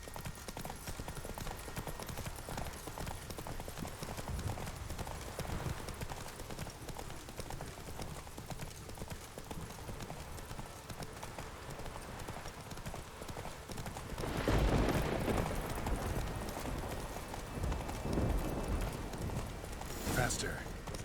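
Horse hooves clip-clop at a steady gallop in The Witcher 3 video game, a continuous rhythmic drumming under talk and game dialogue, growing louder partway through.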